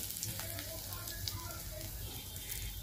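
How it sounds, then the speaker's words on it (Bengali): Whole garam masala spatters in hot oil in a pan for a doi katla curry, giving a steady, close, loud sizzle with scattered sharp pops throughout, no talking. "আবার কি ছিটছে, গরম মশলা দিয়েছে না, হাতের মধ্যে ছিটে আসবে তেল।"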